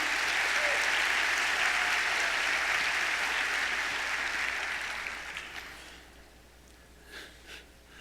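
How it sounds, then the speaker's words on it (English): An audience gives a sustained round of applause for business volunteers at a teacher appreciation event, dense clapping that holds steady and then thins out to a few scattered claps near the end. "Give them a round of applause because they're here to help with you"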